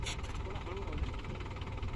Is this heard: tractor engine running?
yes